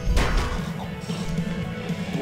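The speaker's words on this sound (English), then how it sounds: "Smashy, smashy, smashy, smashy, smashing, smashing, smashing." Heavy smashing blows land in the video game Dead Space 3, a loud burst of crashing impacts up front followed by rough, ongoing thuds and clatter.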